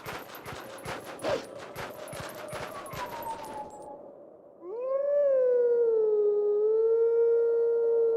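A wolf howls at a stone in the video game Twilight Princess, a long, rising then sustained tonal wail that follows a burst of rapid clattering game sounds and a fading tone.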